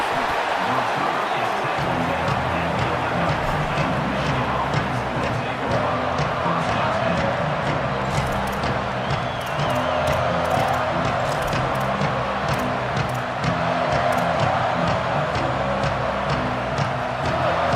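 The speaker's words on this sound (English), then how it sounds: "The roar of the crowd trying to fuel this defense to keep them pinned in their own end" A stadium crowd roars continuously in College Football 27 during a Michigan game, a loud, dense wash of cheering beneath commentator speech.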